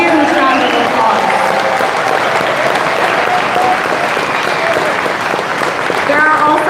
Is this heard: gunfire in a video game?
no